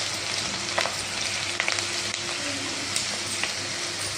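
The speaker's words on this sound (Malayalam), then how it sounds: "ഇതിൻ്റെ അകത്തേക്ക് ഇഞ്ചി, വെളുത്തുള്ളി, പച്ചമുളക് ഇത് മൂന്നും കൂടെ ക്രഷ് ചെയ്തെടുത്തതാണ്." Crushed ginger, garlic and green chilli frying in a pan for a tuna fish-head curry, giving a steady close sizzle with a few sharp spoon-stirring clicks and scrapes, no talking.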